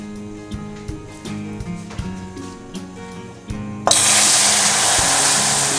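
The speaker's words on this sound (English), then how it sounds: "Now my mom is going to add 1 cup of boiling hot water." After a stretch of music, boiling water pours into a pan of browning sugar for a plum cake, setting off a sudden loud, sustained hiss and spatter that drowns out the background.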